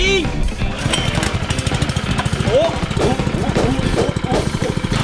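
A small petrol engine drives a water pump feeding a large sprinkler at a school, running loud and close with a rapid, rattling pulse, while people talk excitedly over it.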